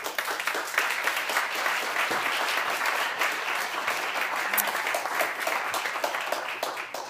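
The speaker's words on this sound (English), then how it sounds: "I want to invite Pavan Sukhdev to the floor and give him a warm applaud." Steady audience applause fills a conference hall welcoming keynote speaker Pavan Sukhdev, a dense, continuous wash of many hands clapping at fairly close range that holds evenly for several seconds without speech.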